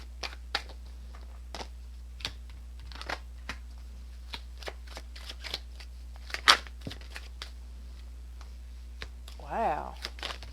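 Tarot cards are shuffled close by in quick, uneven bursts of crisp riffles and soft slaps, with a quiet voice near the end.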